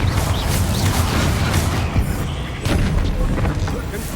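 Blasting spell explosions in the Hogwarts Legacy video game, a dense, continuous rumble of booms and crackling impacts mixed with game noise, loud and close, with a voice shouting over the din.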